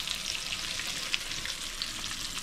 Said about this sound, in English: we're gonna fry these bad boys up right here